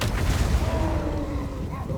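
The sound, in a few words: Foot of Gork explosion spell, Warhammer video game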